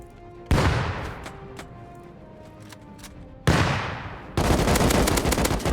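Gunfire in the Rust video game during a raid defense at a quarry: three sharp onsets of close, loud fire, the last becoming a sustained rapid automatic stream to the end, with quieter rattling between bursts.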